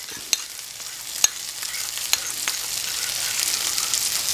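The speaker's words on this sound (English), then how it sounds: "give it a mix, stir it in" Cornstarch slurry being stirred into a simmering blueberry compote, soft bubbling sizzle with several sharp clicks of the utensil against the pan, close by with no talking.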